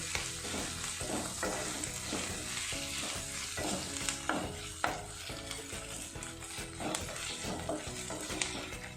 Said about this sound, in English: Cook this in a low flame until the rawness of ginger garlic paste goes away.